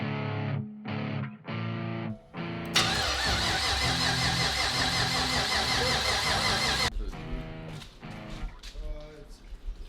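A 1000whp LS V8 engine fires for the first time: short bursts of starter cranking, then a loud, rough roar that settles into a lumpy idle, with music playing underneath.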